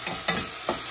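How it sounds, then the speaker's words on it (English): Onions fry in a pan for a spaghetti bolognese while a utensil stirs them, giving a hissing sizzle broken by three quick scraping strokes, close and fairly loud. "I'll cook the onions for about 3 minutes, 4 minutes"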